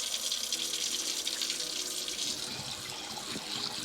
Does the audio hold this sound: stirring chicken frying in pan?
no